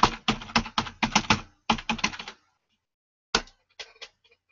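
Quick bursts of keypresses on a laptop keyboard as a password is typed, close and fairly quiet, a run of rapid clicks, a pause, then a few final taps.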